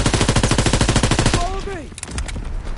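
Machine gun laying down suppressing fire in a trench during a team deathmatch video game, a loud rapid sustained burst of shots that stops midway, followed by falling shell-like whistles and scattered distant gunfire.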